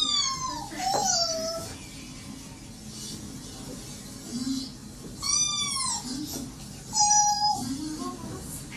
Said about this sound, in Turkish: Miyavlayan iki sevimli.